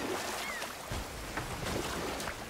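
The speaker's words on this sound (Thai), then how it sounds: "แจวเรือก่อนเลย" Oars splash softly as a small boat is rowed across water in the video game God of War, a low steady wash of water sounds with a few gentle strokes.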